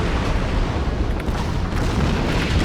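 A dense, continuous roar of heavy booming battleship gunfire from the Kawachi in World of Warships, loud and rumbling throughout with no distinct pauses or voices.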